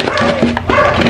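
A dog barks repeatedly at close range, a few sharp, loud barks in quick succession.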